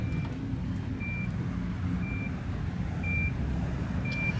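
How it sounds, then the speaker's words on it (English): Power tailgate on a 2017 Nissan Armada Platinum sounding a steady series of short evenly spaced warning beeps, about one per second, over a low rumbling motor and ambient hum. "Power tailgate"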